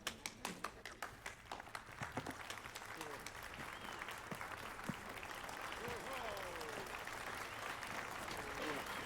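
A crowd applauds in The Witcher 3: Wild Hunt, starting with distinct individual claps that swell into steady, sustained clapping as a voice speaks over it.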